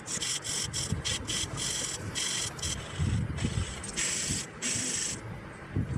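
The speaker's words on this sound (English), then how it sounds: "that's really nicely sharpening from this hand saw" A hand saw being sharpened: close, rhythmic, rasping strokes in short bursts with brief pauses between them, steady and moderately loud with no talking.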